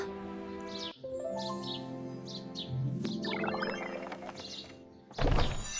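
A cartoon bird chirps in quick, bright little tweets scattered through the clip over a tonal musical bed, followed by a brief thump near the end.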